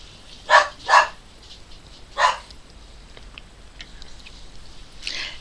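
A dog gives three sharp, high-pitched barks, two close together and a third after a short pause, followed by a fainter yip near the end, fairly close in a quiet room.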